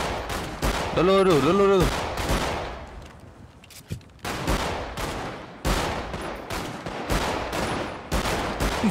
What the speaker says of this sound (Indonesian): siapa yang sakit sangat tembak aku?